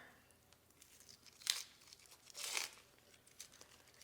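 Papery onion skin is peeled off a quarter onion by hand, giving faint crinkling and two brief, sharper tearing rustles over a quiet background.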